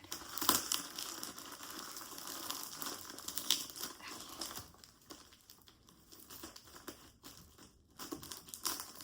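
Tough packing tape being pulled and torn from a mail package, with crinkling and ripping bursts, close and fairly quiet, coming in uneven spurts over several seconds.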